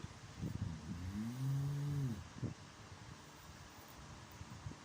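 A person imitates a cow with a single low, drawn-out moo lasting over a second, followed by quiet breathy sounds and light rustling.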